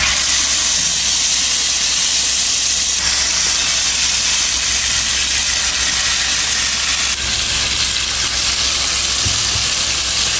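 Hot ghee sizzles in a pan as chicken cooks for a dahi dhuan chicken dish, a dense, loud, continuous hiss and crackle held close up from start to finish.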